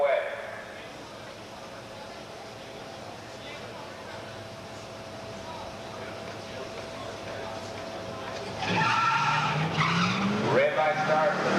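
A Pontiac and a 1967 Chevelle 396 launch side by side in a drag race. A steady engine drone builds into a loud roar with tire noise over the last few seconds, and crowd and announcer voices mix in underneath.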